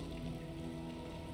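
Acid rain skill effect from the video game Darkest Dungeon 2, a steady hissing patter like rainfall sizzling on a surface, continuous and fairly loud throughout with no talk.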